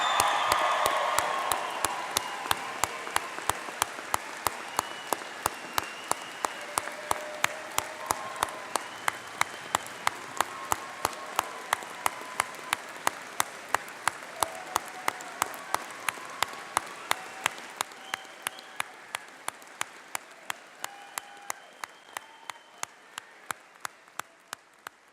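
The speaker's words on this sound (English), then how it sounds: "Let's give these convocates another round of applause." Audience applause at a 2014 convocation morning ceremony, a dense steady wash of many hands clapping that slowly thins over about twenty-five seconds, with sharp regular clicks running through it.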